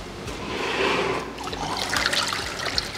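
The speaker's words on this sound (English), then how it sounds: "Now I'm going to grab my bucket of water." Water is poured from a bucket over a paint-stripped, rust-repaired XC vehicle panel, splashing and trickling close by for a few seconds with a fan running in the background.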